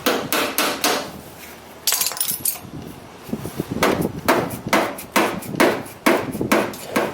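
Hammer blows on metal under a Toyota Tacoma during a front lift install, sharp ringing strikes in quick bursts of several hits with short pauses between, close and loud.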